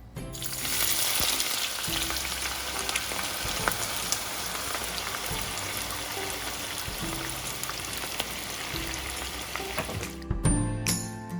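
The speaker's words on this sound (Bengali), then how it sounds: "তেলটা গরম হয়ে এলে এর মধ্যে কেটে রাখা পেঁয়াজগুলো দিয়ে দিব। পেঁয়াজগুলো গোল্ডেন ব্রাউন করে ভেজে" Sliced onions frying in hot oil in a frying pan for biryani, a dense continuous sizzle held at an even level from start to finish, with a brief clatter near the end.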